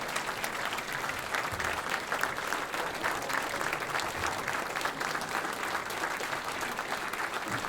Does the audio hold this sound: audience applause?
yes